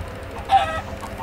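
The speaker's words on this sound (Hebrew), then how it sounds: "יש פה תרנגולות, הנה תרנגולת" A chicken in Minecraft gives a single short cluck, close and clear, against a low muffled background.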